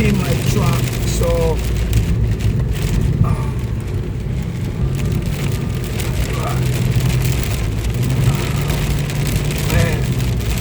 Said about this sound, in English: It's like heavy rain and wind, gusting wind.